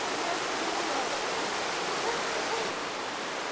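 A waterfall rushes in a steady, hissing roar that stays constant and fairly close, filling the whole stretch without pause.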